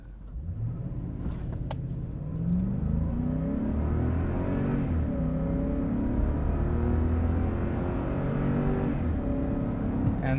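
A 2021 Lexus LX570 with its V8 accelerating hard in Sport Plus mode, heard from inside the cabin as a deep steady engine drone rising in pitch through the gears, with a brief shift dip early on.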